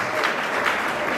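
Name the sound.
audience clapping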